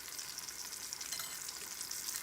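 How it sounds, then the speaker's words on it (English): Breaded chicken for chicken parmesan sizzles and crackles steadily in hot frying oil, a dense, continuous hiss close to the pan with no talking. "We got that sizzle going, we got that crackle."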